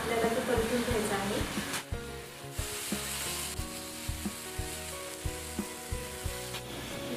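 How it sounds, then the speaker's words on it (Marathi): Grated jaggery and coconut modak filling sizzles steadily as it is stir-fried in a pan, with soft repeated scraping taps from the spoon. "तर सारण एकदम घट्ट होईपर्यंत आपल्याला ते परतून घ्यायचं आहे।"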